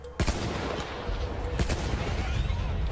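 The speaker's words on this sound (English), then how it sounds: "That sounds like a powerful gun." Gunfire in the Battlefield 1 campaign, sharp shots cracking at about 0.2 and 1.6 seconds over a dense rumble of battle noise, fairly loud and close.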